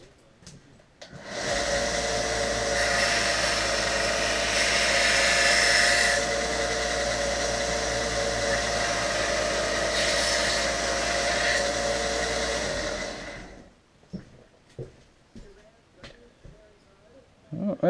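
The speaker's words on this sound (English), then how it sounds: "Put it on the sander right quick and clean it up and see a little better." Power sander cleaning up an etched metal part, spinning up to a steady loud whine that holds for about twelve seconds before winding down, followed by faint handling clatter.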